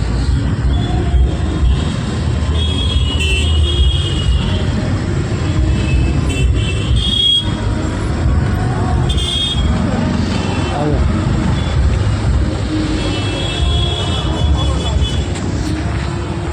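Road traffic in Ranchi, Jharkhand, a steady dense rumble of passing vehicles and engines that runs throughout, with people talking over it.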